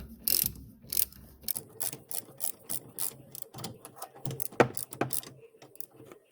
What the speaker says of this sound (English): And a 1/2 inch ratchet. You can use a 3/8 ratchet.